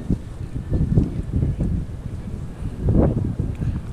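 Gusty pre-storm wind buffets the microphone while fishing, in low rumbling bursts that swell and fade, loud and close, with no voices.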